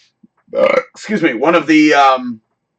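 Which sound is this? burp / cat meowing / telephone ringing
burp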